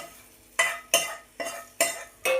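Tempering poured into tomato rasam, then a spoon stirring the pot, giving five sharp scraping, clinking strokes in a steady rhythm, close and fairly quiet.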